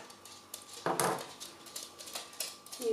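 A spoon or spatula scrapes and clinks against the bowl while coconut chicken curry is stirred in a Thermomix TM7, a few soft knocks and scrapes at close range with no talking.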